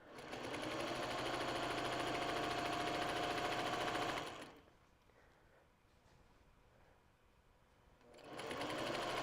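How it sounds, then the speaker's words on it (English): A sewing machine stitches a quilt-as-you-go June Tailor project bag, running loud and steady, pausing for a few seconds of near silence, then starting up again. "I am going to back stitch as I go. This is quilting it as I go too"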